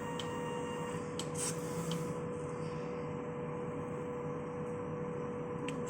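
A Smart 60cm DTF printer runs steadily, a continuous mechanical hum and whir with a faint tonal whine and occasional light ticks, close and quiet, with no talking.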